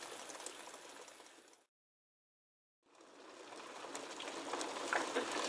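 Water boiling in a pot of quail eggs, a steady bubbling hiss that cuts out for about a second midway and then returns, gradually growing louder.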